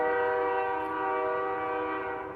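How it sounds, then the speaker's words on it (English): A loud, sustained train horn sounds near a garden, holding one steady chord throughout with no other sounds over it. "you have to forgive the train, it's rude."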